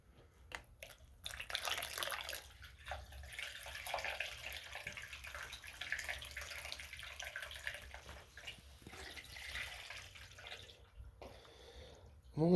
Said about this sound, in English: I'll pour it in the canister